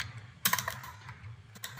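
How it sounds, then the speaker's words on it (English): Brief burst of keystrokes on a computer keyboard as a name is typed into a spreadsheet workbook, a quick cluster of clicks followed by a few scattered taps, close and fairly quiet. "type your name here, Valerie"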